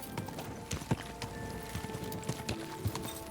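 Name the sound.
horse hooves in a video game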